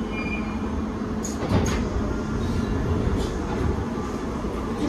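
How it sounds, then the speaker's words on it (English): London Underground Piccadilly line train running through a tunnel, a loud continuous low rumble with rail clatter and a few faint high squeals, heard close from inside the carriage without speech. "This is a Piccadilly line service to Cockfosters."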